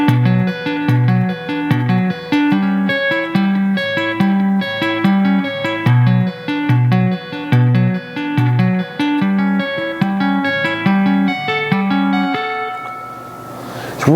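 Electric guitar finger-tapping passage with hammer-ons, a fast, steady run of clean repeating notes cycling through a looping pattern for about twelve seconds, played alone and ringing out at the end.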